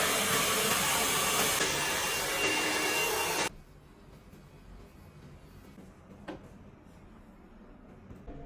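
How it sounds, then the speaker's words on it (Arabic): A hair dryer blow-drying hair roars with a loud, steady airy whoosh for several seconds, then abruptly switches off, leaving a quiet room with faint background rustle. "انا عامل استشوار"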